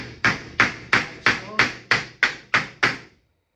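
Nine evenly spaced, sharp hammer blows ring out close by as a roof slate is nailed through pre-drilled holes, each strike with a short decaying ring before the next.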